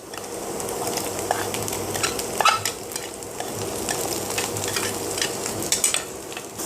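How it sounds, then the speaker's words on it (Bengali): Chopped carrots sizzle steadily in a frying pan for fried rice while being stirred, with occasional scraping and clinks of the utensil against the pan, close and continuous, no talking. "এখন আমি দিয়ে দিচ্ছি গাজর কুচি"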